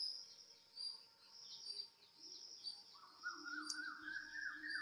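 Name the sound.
cuckoos calling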